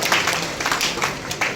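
An audience at a network marketing event in a hall breaks into applause, a steady dense patter of many hands clapping, fairly loud, with no voice over it.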